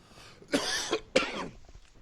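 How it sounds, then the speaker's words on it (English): Two sharp coughs in quick succession, close and loud, with a brief pause between them and quiet room tone around them. "I apologize, I had to cough."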